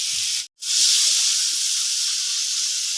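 Potatoes frying in a pan in a home kitchen give a steady, close sizzling hiss that runs throughout, broken only by a brief silent gap near the start.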